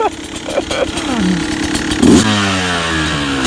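An enduro motorcycle engine revving up close, loud and rough, choked and sluggish, the pitch climbing and dropping in quick surges.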